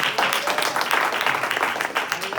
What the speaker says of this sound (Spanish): le damos la bienvenida con un fuerte aplauso en esta hora